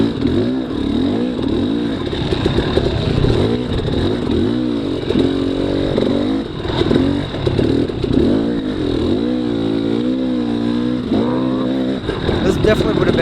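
A dirt bike engine revving and surging through a rainy, muddy hare scramble race, its rising and falling whine close and loud throughout, with a rider talking over it.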